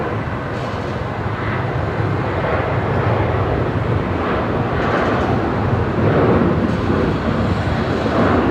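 A Virgin Australia airliner, Velocity 342, roars loudly and continuously at Brisbane Airport at night, its engine rumble swelling slightly toward the end, with no talk.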